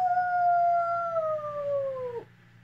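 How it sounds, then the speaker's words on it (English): A wolf gives one long, clear howl that holds a steady pitch, then drops sharply and cuts off, with a faint low hum underneath afterward. "he keep on hearing sounds of fierce wild animals like roar or grr or especially wolves"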